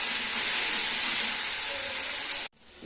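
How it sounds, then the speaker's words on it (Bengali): A spice paste of green and dried chilies fries in a pan of browned potatoes, giving a loud, steady sizzle and hiss close by that cuts off sharply near the end. "এবার মশলা দিয়ে দেবো এর মধ্যে আছে কাঁচা লঙ্কা শুকনো লঙ্কাও ভালো করে কষাবো মশলাটাকে"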